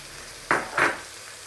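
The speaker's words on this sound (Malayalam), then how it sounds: "ഇത്രയും കൂടി ഇട്ട് നല്ലതുപോലെ ഇളക്കുക. ഇതങ്ങോട്ട് വഴരട്ടെ." Beef fry seasoned with coriander and chilli powder is stirred in a pan: two quick, close scraping strokes over a faint background sizzle.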